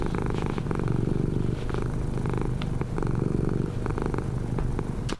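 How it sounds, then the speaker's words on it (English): A cat purrs loudly and steadily in a continuous close rumble, with a few faint scratches and clicks sprinkled through, no voices. "then the purr, which is going to be a big one."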